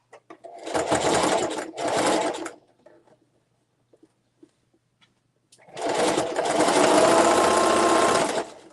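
A sewing machine stitches a zippered tote bag in two short bursts, then goes quiet with a few faint clicks before running again in a longer, steady whirring run close to the microphone.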